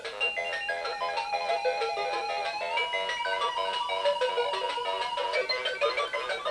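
A Rus Sonata mobile phone plays a polyphonic ringtone melody, a steady, bright, electronic tune of repeated synthetic notes that fills the whole clip at even loudness, with no talking.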